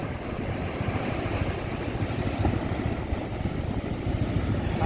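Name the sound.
big sea waves around a fishing boat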